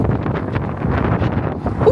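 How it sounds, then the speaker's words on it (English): Gusty wind buffets the microphone with a low rumbling roar throughout, loud and close. "Ooh, it's windy."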